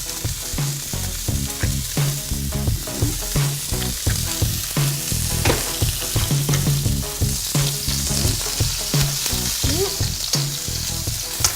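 Peppers fry in olive oil in a pan while cooking alongside lamb, giving a close, lively sizzle with crackling bursts and stirring sounds throughout, with no voices.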